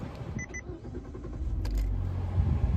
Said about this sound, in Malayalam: വണ്ടി സ്റ്റാർട്ട് ചെയ്തിട്ടുണ്ട്. പോവാം.